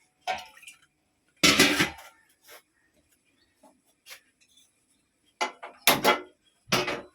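Metal pot and utensil clatter while water is set on to boil for tea in a home kitchen, with several sharp clinks and knocks in separate bursts, near and fairly loud, and quiet gaps between them.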